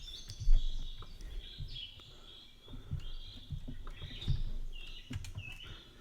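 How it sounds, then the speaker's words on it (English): Birds in the farming game Homefront Harvest, light chirps and short whistled calls scattered over a few seconds, moderately faint, with soft clicks and low thumps underneath. "those are the birds in the game."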